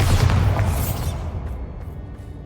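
A Bombarda blasting spell explodes in Hogwarts Legacy with a loud, deep boom right at the start. It then rumbles and fades gradually over a couple of seconds.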